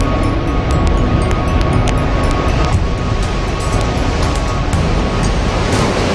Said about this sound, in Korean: 津波が陸上まで入っていって、遡上ということで、ずっと入ってくるんですね